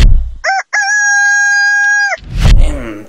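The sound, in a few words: rooster crowing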